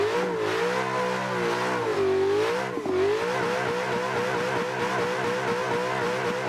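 Nissan 350Z drift car engine in Assetto Corsa holding a steady, loud rev with a rising and falling pitch as the throttle is worked, continuous throughout with no talk.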